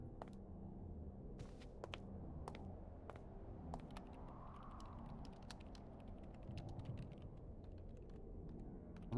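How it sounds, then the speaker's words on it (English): Keyboard typing in a video game comes through as a faint run of quick, irregular key clicks over a low steady background hum, with no one talking. "Someone's typing?"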